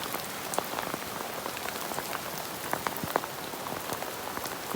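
Steady rain falls on a surface, a dense even patter with scattered louder drops standing out, continuous throughout with no voices.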